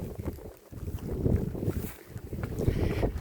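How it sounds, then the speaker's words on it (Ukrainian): Gusty wind buffets the microphone in steady low rumbling waves, with brief lulls between stronger blasts. "Правда, дуже вітряно."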